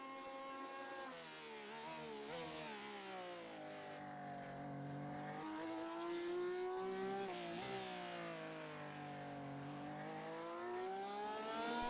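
A race car engine in a Silverstone racing video game howls continuously at speed, its loud, buzzing pitch climbing through the gears and dipping briefly at shifts, with no talking.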